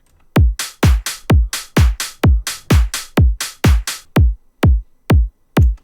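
Drum samples play alone and loud: a punchy kick, claps panned left and right, and hi-hats, hitting in a steady, evenly spaced beat of about sixteen sharp strikes, each with a short decaying tail.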